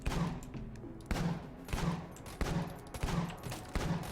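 The Pulse Cannon in the video game Enter the Gungeon fires outside the shop, a steady series of about seven punchy blasts spaced roughly every two-thirds of a second, each with a short rumbling tail.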